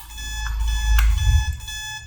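A simulated alarm in a coffee production and packaging automation system, triggered when a max-level sensor detects mixed ingredients. It sounds as a steady, ringing electronic alarm tone that carries on for about two seconds with no voices.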